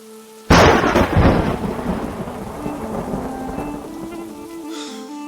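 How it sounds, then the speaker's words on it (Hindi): Heavy rain pours down in a cartoon storm as a loud thunderclap bursts in suddenly, then rolls and fades into a steady hiss of downpour. "इतनी तेज बारिश में मैं माँ के लिए सूखी लकड़ियां कहाँ से ले जाऊं?"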